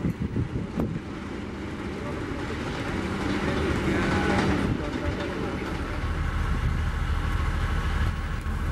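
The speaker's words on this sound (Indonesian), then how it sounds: "lokomotif katenary yang baru yang memiliki logo KJJ" A new catenary electric locomotive with a KJJ logo sits at the Tegalluar rail depot in Bandung for Indonesian high-speed rail, with a steady rumble of rail noise and wind buffeting the microphone.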